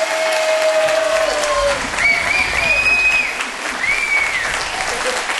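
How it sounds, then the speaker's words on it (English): A wedding crowd claps steadily in warm applause, with a few whistles and cheers rising over it. "Give them a nice round of applause."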